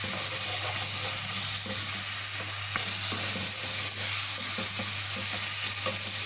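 Tomatoes, ground green chili and ginger garlic paste cook in a pan for mutton masala, with a loud continuous sizzle and scattered stirring scrapes, close up, no voices.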